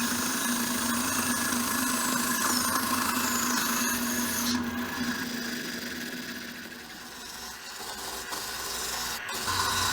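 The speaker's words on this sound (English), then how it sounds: "I'm going to be taking these semi circles over to the lathe in order to make these round" Wooden semicircles spin on a lathe while being turned round, giving a continuous whirring and scraping rasp that eases slightly midway and then builds back up.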